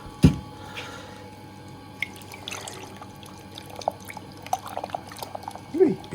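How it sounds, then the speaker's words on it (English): Water rinsing out rock tumbler barrels after tumbling amazonite: splashes, drips and sloshing come in uneven bursts, up close and moderately loud. "going to give them a rinse and try and empty out these barrels a bit more"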